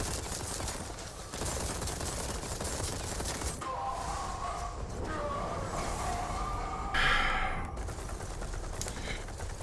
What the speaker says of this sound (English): I was shooting you!